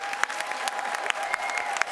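Dense crowd applause at a school board meeting, steady and full with a few sharper individual claps and a faint whistle or cheer riding on top.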